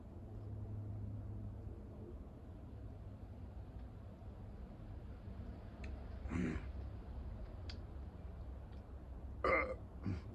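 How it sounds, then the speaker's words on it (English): A man belches twice outdoors in a garden, the short rough bursts standing out over a steady low rumble of background noise. "That's a natural body function. A belch, my man."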